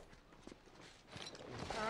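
A horse's hooves clip-clop at a walking pace in the video game The Last of Us, steady close hoofbeats alongside spoken dialogue, growing slightly louder toward the end.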